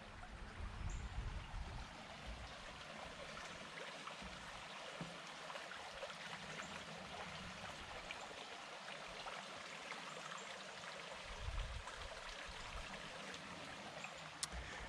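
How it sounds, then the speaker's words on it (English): Creek water runs steadily beside a small bridge on rural wooded property, a continuous broadband wash with occasional low rumbles and no talk. "The creek is right there."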